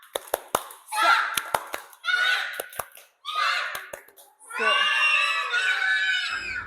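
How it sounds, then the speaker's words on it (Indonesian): A crowd of children performs a rhythmic clapping chant at a teachers' jamboree, sharp claps in quick bursts between loud, excited shouted chanting voices, lively and close. "Tepuk semangat dulu, tepuk semangat."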